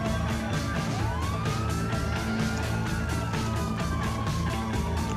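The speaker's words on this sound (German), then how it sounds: "Wir fahren mit dem Polizeiauto." A wailing police car siren in a game sweeps up and down continuously and loudly, with engine rumble and traffic noise underneath.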